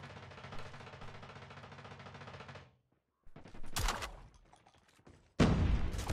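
Shotgun slug rounds fired in a video game, with a stretch of rapid gunfire, a brief silence, then single loud, sharp blasts, the last one heavy and close.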